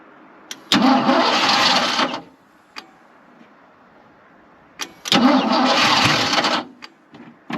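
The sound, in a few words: Ford F250 truck engine cranking and starting with jump box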